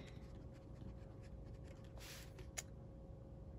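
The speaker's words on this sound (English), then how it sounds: "I'm going to write Dear Abba" A pen writing on paper, faint and close, with soft scratchy strokes over a steady low background hum and one brief brighter scrape near the end.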